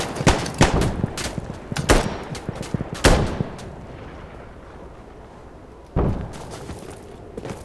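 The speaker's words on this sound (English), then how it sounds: "Firing mortars now." Mortar rounds firing in the video game Insurgency Sandstorm, with a burst of heavy booming blasts that leave rumbling tails, a quiet stretch, then one more loud thud near the end.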